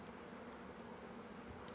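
Honeybees hum around an opened hive during a transfer, a faint, steady buzzing drone with no voices over it.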